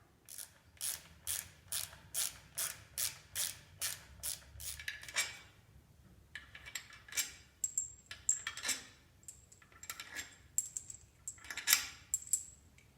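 Ratchet wrench clicking repeatedly while loosening and pulling the intake manifold plenum bolts on a Pontiac Fiero GT, rapid rhythmic ratcheting bursts followed by scattered metallic clinks and taps of bolts and tools, close up with no talk.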